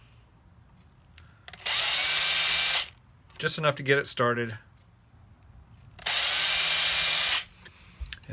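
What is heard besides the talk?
small power drill drilling pilot hole in cigar box guitar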